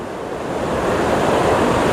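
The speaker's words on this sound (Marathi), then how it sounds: "समुद्र बघा एकदम शांत आहे" Sea waves washing in at Juhu beach at high tide make a steady, broad roar of surf that swells slightly louder, continuous and without any voices.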